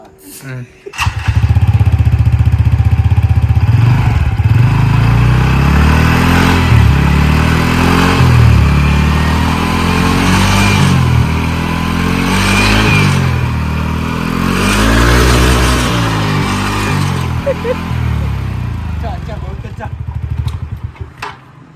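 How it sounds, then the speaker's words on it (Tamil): Motorcycle engine just back from a workshop oil change started up close and revved repeatedly, loud rising and falling throttle surges over a steady idle that continue for about twenty seconds. "சரி கேசு, வண்டி ஸ்டார்ட் பண்ணி அதோட"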